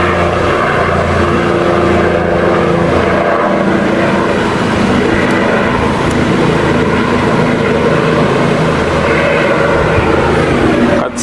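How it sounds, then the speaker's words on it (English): A steady, loud engine drone of an aircraft overhead with a continuous rotor-like throb, holding evenly throughout with no talking. "Yep, it's a helicopter."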